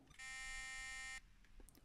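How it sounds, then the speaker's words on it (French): A single electronic beep from a Canon X-07 computer plays the note C, holding one steady, buzzy pitch for about a second, then cuts off abruptly, followed by faint clicks. "Si je fais bip 1, je vais obtenir le Do."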